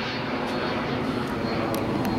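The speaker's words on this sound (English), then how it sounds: "jet flying over there" A jet aircraft passing overhead outdoors, heard as a continuous broadband roar that holds steady throughout, fairly loud and with no talking.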